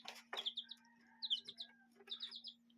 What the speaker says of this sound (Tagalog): Ating alagang sisiw mga idol.